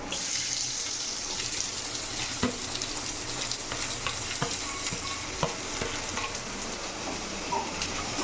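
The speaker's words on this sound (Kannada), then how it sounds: "ಈರುಳ್ಳಿ ಚೆನ್ನಾಗಿ ಫ್ರೈ ಆಗಬೇಕು, ಅಲ್ಲಿವರೆಗೂ ಇದನ್ನ ನೀಟಾಗಿ ಫ್ರೈ ಮಾಡೋಣ" Onions frying in a pan for a Malnad-style chicken dish, a dense steady hiss and sizzle throughout with occasional small clicks of a utensil, fairly close and even in loudness.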